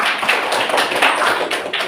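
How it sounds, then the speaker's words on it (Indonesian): Hands clapping in a classroom during a Catholic religious education lesson, a dense steady patter of many small claps filling the whole stretch at close range, with no talk over it. "Ya, tepuk tangan dulu."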